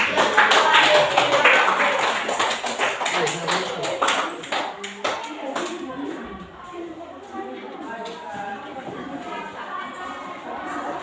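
Audience clapping for a group after a class presentation, a short burst of scattered claps that thins out while people talk over it.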